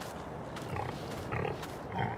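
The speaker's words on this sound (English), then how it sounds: "And the noise you hear is, well, we've got pigs" Pigs on a Farming Simulator 22 dairy farm, giving a few faint grunts and snorts over steady low background noise, with no one talking.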